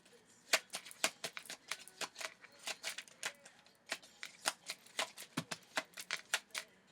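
Tarot cards are shuffled by hand in a quiet room, making a close, sharp run of papery riffles and snaps in an uneven rhythm, about thirty crisp flicks in quick succession.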